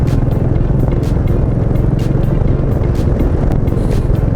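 A Royal Enfield Meteor 350 motorcycle rides through a historic town centre, its steady low engine thrum loud and close over wind rumble.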